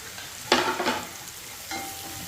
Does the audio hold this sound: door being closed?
no